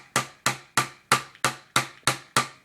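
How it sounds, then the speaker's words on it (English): A small hammer taps a pin out of an M4 rifle rail during disassembly: eight sharp, evenly spaced metallic strikes, loud and close, each with a short ringing decay, and no talk. "I have a little hammer tool here."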